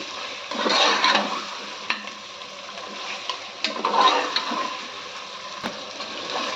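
Pieces of goat leg fry in a pan with bursts of crackling sizzle and spoon stirring, swelling and fading, with a few sharp clicks and a knock near the end; close and fairly loud, no voices.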